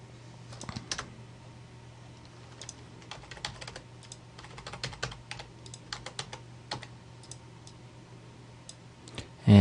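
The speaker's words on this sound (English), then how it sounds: "I'm just using my arrow keys here to adjust this real quick." Computer arrow keys are tapped repeatedly while an image is adjusted in Photoshop, producing close, crisp clicks in irregular quick bursts with short pauses between them.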